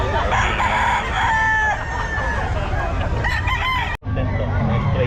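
Gamefowl roosters crowing repeatedly at a busy pet market in Bocaue, with overlapping calls and clucks over a dense crowd din and background chatter.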